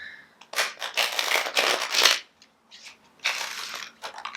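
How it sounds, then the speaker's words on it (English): Tarot deck being shuffled by hand, two bursts of crisp riffling and sliding card noise separated by a short pause, close and fairly loud. "let's give it one more shuffle for"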